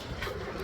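Giribaz pigeons, a mixed collection of breeds, give a soft, low coo under a steady background hiss, brief and fairly faint, with no speech.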